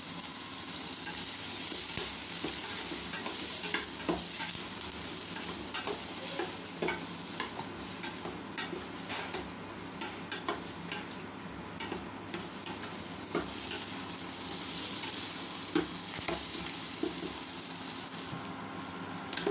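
Pasta masala upma ingredients with tomato and turmeric powder fry in a pan, giving a steady close sizzle with a hiss of steam and the scrape of stirring throughout.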